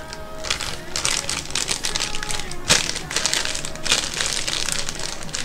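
Crinkling and crackling of a Sabritas potato chip bag, a dense, continuous rustle of plastic packaging handled up close, with one sharper crunch partway through.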